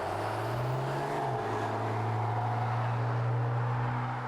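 A 2005 Dodge Cummins turbo diesel pickup with Banks power upgrades pulls hard under acceleration, its steady low engine drone rising slightly in pitch as it climbs, loud and continuous from a nearby vantage with no talking.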